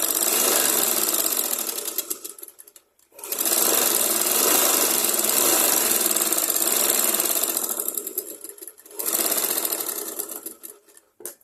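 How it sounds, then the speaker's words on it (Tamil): A sewing machine stitches a back-button model blouse, running in three long bursts with brief pauses between them, loud and close with no talking. "இன்னொரு ஸ்டிச்சிங் பண்ணிடுறேன் அதுக்கு மேலே."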